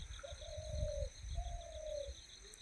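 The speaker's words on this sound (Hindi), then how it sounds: "ये घुघुती जो है अपनी भाषा बोल रही है" A ghughuti dove in Uttarakhand gives two drawn-out soft cooing calls, fairly faint against a low rumble and a steady high background hiss.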